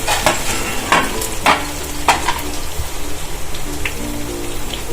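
Cut potato pieces for farali bhaji drop into a hot pan and get stirred, giving loud, repeated scraping strokes about every half second over a continuous close sizzle.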